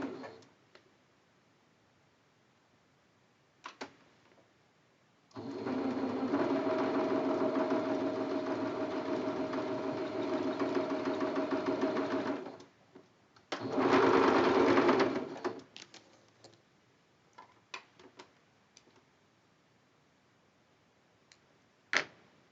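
A sewing machine stitches a quilt block straight along a marked line from edge to edge in two bursts, a long steady run of about eight seconds and then a shorter, louder one, with quiet handling clicks between and after.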